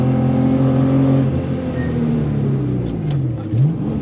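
Porsche 993 CS engine pulling steadily through a lap, heard from inside the car, with a deep continuous drone whose pitch rises and falls as the car runs through the gears into second-gear corners.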